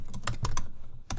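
A short burst of a few crisp keystrokes as a file name is typed on a computer keyboard, close and clear with a brief pause before the last tap.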